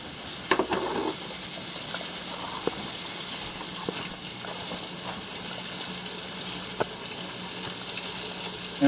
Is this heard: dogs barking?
no